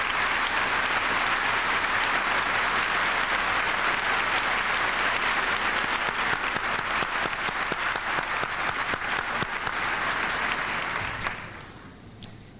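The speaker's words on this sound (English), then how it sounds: "Would you please stand and let's give them a round of applause." Audience at a 1997 high school commencement applauds the graduating class, a dense sustained wash of clapping that holds steady for about eleven seconds, then fades out toward the end.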